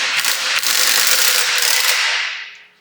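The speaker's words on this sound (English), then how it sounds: "we are going to use a battery-powered impact to snug the wheels on" Battery-powered impact wrench running lug nuts onto truck wheels before torquing, a loud close continuous rattling hammer lasting a couple of seconds and then stopping.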